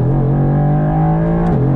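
A 2020 Mercedes-AMG GT R engine revs steadily under hard acceleration, a deep droning tone that climbs slightly before dropping off near the end.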